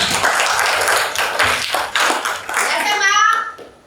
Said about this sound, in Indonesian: kasih aplaus dulu buat mereka